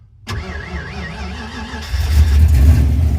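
An old manual-transmission car with a low battery and a cheap aftermarket muffler cranks with a wavering starter whine, then catches and settles into a loud, rumbling idle up close.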